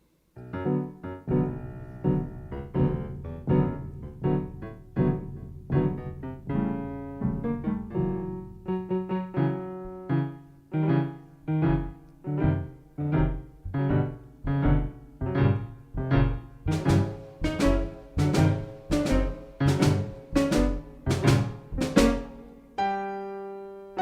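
Orchestral music portraying the grumpy grandfather from Prokofiev's Peter and the Wolf, in an arrangement of steady rhythmic phrases that turn into repeated emphatic accented chords toward the end, with no voices.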